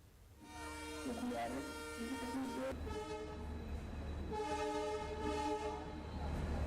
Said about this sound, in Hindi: खुद रेल मंत्री अश्विनी वैष्णव और बांग्लादेश के रेल मंत्री मोहम्मद नूरुल सुजान ने मिताली एक्सप्रेस को हरी झंडी दिखाकर रवाना किया।